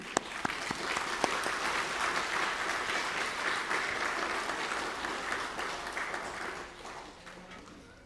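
Sustained applause from a gathered crowd at a vigil, steady dense clapping filling the space for several seconds before slowly tapering off toward the end.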